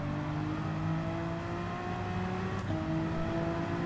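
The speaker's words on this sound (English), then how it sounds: "that is the fan in the wheel deciding to go into overdrive" Steady whirring drone of a Gran Turismo 7 racing car's engine, with a rising whine like a steering-wheel fan going into overdrive, loud and continuous with a brief shift partway through.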